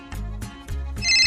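A phone ringtone plays nearby, a loud electronic pattern of repeated pulsing tones that shifts to a brighter melody at the end.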